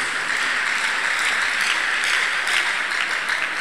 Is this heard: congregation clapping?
yes